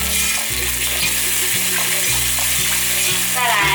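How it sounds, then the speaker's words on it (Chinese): Two tablespoons of soy sauce sizzling in hot oil in a wok, a loud, steady crackling hiss with regular stirring strokes running through it. "锅内放入少许油，油热了之后，放入2汤匙的酱油"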